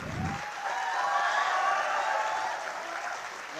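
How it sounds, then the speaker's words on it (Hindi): Crowd of students at a motivational event in Patna clapping to welcome a speaker, a steady, fairly distant wash of applause that holds evenly throughout with no speech over it. "बच्चों जोरदार तालियों से स्वागत करें"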